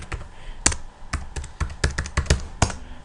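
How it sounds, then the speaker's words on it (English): Someone types login credentials on a computer keyboard: a close, clear run of irregular key clicks and taps, with short bursts and small pauses across a few seconds and no talking. "you type basically your credentials"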